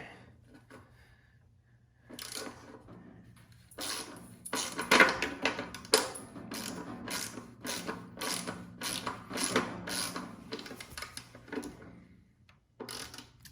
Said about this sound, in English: to take off this plastic cover, there are two bolts. They're going to be an 11 millimeter